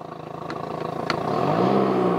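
The outboard engine of a 2020 Mako 17 Pro skiff revs in neutral with the throttle open, a rough, close engine note that rises in pitch and loudness as it climbs.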